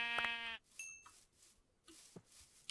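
A video game sheep gives one short, clear, fairly loud bleat at the start, followed by quieter intermittent game sounds with no voices.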